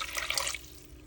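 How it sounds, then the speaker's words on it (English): Water poured into a cooking pot of simmering mussels and shrimp, a short bright splashing pour that fades after about half a second. "I'm also adding 100 ml of water to it."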